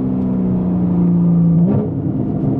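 A Porsche Cayman S with a 3.4 engine and straight-pipe exhaust holds a loud, steady high rev before the pitch drops sharply and settles into a rumbling lower drone, heard close.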